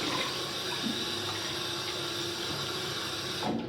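Tap water runs steadily into a sink to fill a bowl for wet shaving, a continuous close rushing splash that holds even throughout and cuts off abruptly at the end.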